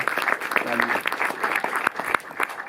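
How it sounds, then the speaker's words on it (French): Audience applause in a Paris cinema, a short burst of clapping from a seated crowd, fairly close and steady, with a voice briefly audible over it. "Que vous pouvez applaudir également"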